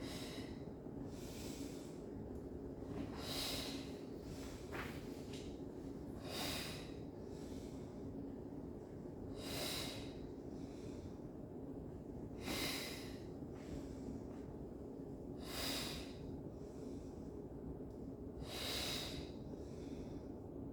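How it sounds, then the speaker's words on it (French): Slow, regular breaths out and in during a chair yoga session, roughly every three seconds, soft and airy against a low, steady background hum, with no talk. "Et on va expirer et inspirer."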